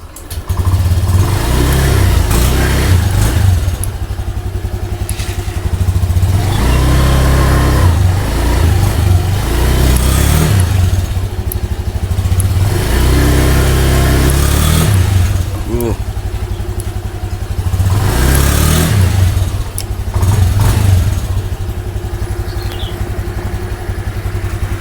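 Repaired automatic scooter engine revving on a shop test after a fix for a rough, weak-running fault, with repeated rises and falls of the engine note, loud and close, and someone speaking over it at times.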